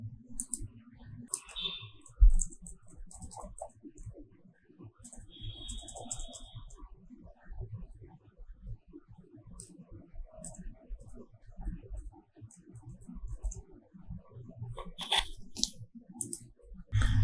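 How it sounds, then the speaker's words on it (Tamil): Computer keyboard typing as a user ID, password and captcha are entered to log in to an EPF employer portal, a run of soft irregular key clicks over low background hum with no speech. "யூசர் ஐடி, பாஸ்வேர்ட், கேப்சா இது மூணுத்தையும் டைப் பண்ணி லாகின் பண்றேன்"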